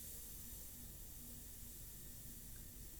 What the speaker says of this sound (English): See, that's why I like the airbrush.